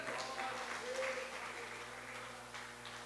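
Church congregation applauding during a worship service, a soft steady spread of clapping over a sustained low hum and faint voices, fairly distant and quiet throughout.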